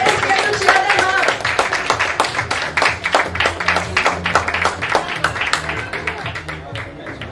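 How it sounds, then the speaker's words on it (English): Parents applauding at a school graduation ceremony, a sustained wash of many hands clapping at close to moderate distance, with voices and cheering mixed in throughout. "Let's welcome them with a huge round of applause."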